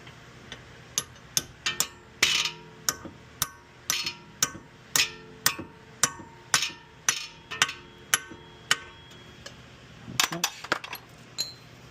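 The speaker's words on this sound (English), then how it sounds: "then use a hammer" Steady, evenly spaced metallic hammer strikes on a 1977 Porsche 911 ball joint during replacement, about two per second, sharp and close, with a brief flurry of quicker hits near the end.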